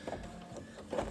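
An embroidery machine stitching a patch, a soft mechanical whir with short rhythmic buzzing pulses, close and quiet with no talk.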